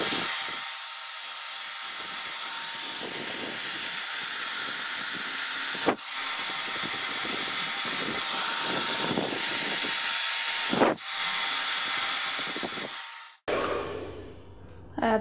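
A hair dryer blows a loud, steady close whoosh as the base of a hairstyle is dried, with two brief cut-offs before the airflow stops near the end.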